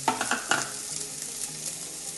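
Cauliflower drops into a hot pan with ginger, garlic and onion, giving a short burst of sizzling and stirring clatter at the start that settles into a soft, steady frying hiss.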